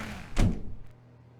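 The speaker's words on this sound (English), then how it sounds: "When Stanley came to a set of 2 open doors, he entered the door on his left" A door in the video game The Stanley Parable Ultra Deluxe, an office setting, gives a single heavy wooden thunk close up, then a brief fading tail, with no speech.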